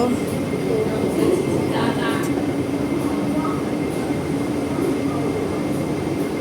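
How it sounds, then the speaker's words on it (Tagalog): An MTR train runs at a station with a loud, continuous rumble and rolling wheel noise, while people speak nearby. "Yan yung MTR. Train. Train!"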